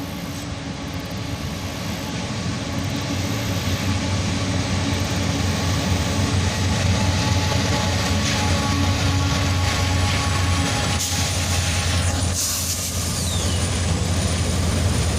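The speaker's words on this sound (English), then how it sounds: "we catch this Norfolk Southern locomotive running all alone light power" Norfolk Southern locomotive running light power, all alone with no cars, its diesel engine rumbling steadily at a constant moderate distance for the whole stretch, with a low drone and a brief shift in the mix near the end.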